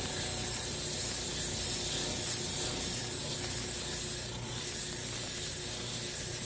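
Coarse sandpaper rubs back and forth over a wooden gun stock, a continuous hissing scrape held close and fairly loud, with a brief lull near the end and no voices.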